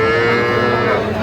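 A cow moos loudly and steadily at a cattle market, a long, close, low bellow that fills the whole moment.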